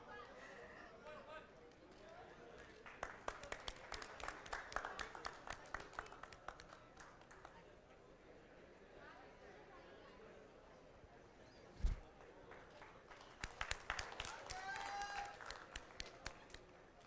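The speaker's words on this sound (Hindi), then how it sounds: "हम तालियां बजाकर इन सभी का मनोबल बढ़ाएं" Faint, scattered audience clapping at a financial literacy quiz event, with two sparse bursts of claps heard under murmured talk and room noise.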